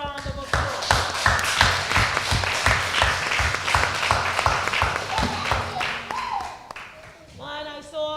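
A church audience at a youth debate championship claps in a sustained round of applause for a diocesan youth director, dense and steady for several seconds before tapering off, with a voice coming in near the end.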